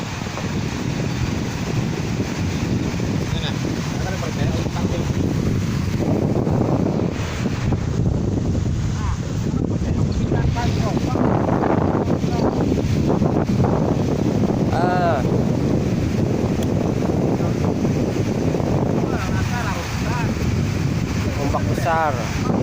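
Strong wind and heavy waves on open water off Kotabaru, Kelumpang Tengah, aboard a boat: a constant loud roar of gusts buffeting the microphone over churning surf and hull slap, with voices faintly mixed in.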